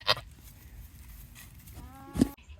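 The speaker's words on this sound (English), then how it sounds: "Everybody's being noisy." Goats bleating on a farm: a sharp, high bleat at the start and a louder, wavering bleat near the end, close by over quiet background noise.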